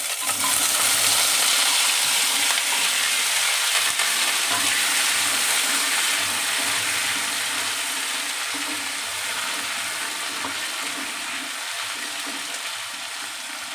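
Chopped phut (snap melon) fries in a pan with kalo jeera (nigella) seeds for a curry, giving a steady, close, dense sizzle that continues throughout and eases slightly toward the end, with no talking.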